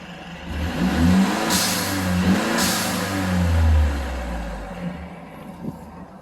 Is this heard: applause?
no